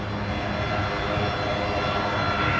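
Air New Zealand Boeing 787-9 Dreamliner arriving from Auckland at Brisbane airport, its engines a steady, moderately loud roar with a low rumble, continuous throughout the short stretch.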